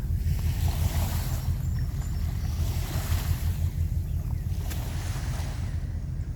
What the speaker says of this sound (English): See how the intensity of the water is getting? Yeah, I hear it. It's getting louder.